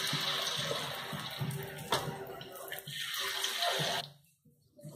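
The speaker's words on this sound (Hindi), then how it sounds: "मैंने पकौड़े डाल दिए, अब ये फ्राई होंगे" Pakoras sizzling as they fry in hot oil in a home kitchen, a steady broadband hiss that runs for about four seconds and then drops away sharply to near quiet.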